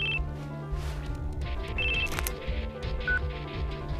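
A phone ringing in the video game Crisis Core: Final Fantasy VII, short electronic ring tones repeating over a dense bed of game music and effects, moderately loud.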